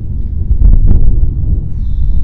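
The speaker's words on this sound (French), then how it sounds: "Il me saoule le vent, il commence à m'emmerder le vent." Wind buffets an outdoor microphone near a sporty car in loud low rumbling gusts that swell and ease for a couple of seconds, with no speech.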